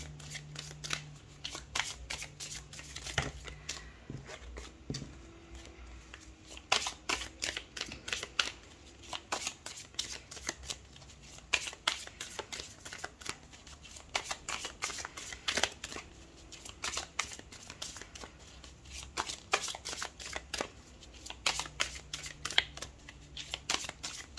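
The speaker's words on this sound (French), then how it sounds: "on tire 2 à 2 les cartes pour voir quelle paire est associée" Tarot cards shuffled and drawn by hand nearby, a long run of crisp riffling flutters and soft slaps in irregular bursts, fairly quiet, with no talking.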